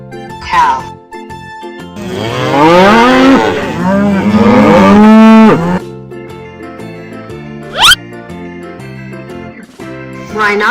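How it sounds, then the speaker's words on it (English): A toy cow gives a long, loud electronic moo lasting several seconds, with shorter jingling toy sounds before and after it. "Cow."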